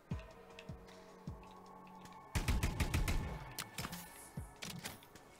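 Plasma rifle fire in the video game The Anacrusis, a quick burst of sharp electronic shots in the middle, with scattered clicks and taps before and after, moderately quiet.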